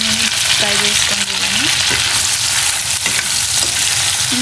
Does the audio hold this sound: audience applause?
no